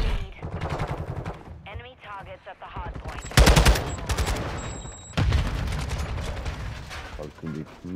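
Rapid automatic gunfire from the video game Modern Warfare 2, loud bursts of shots in quick succession with short pauses between volleys, mixed with game sound effects.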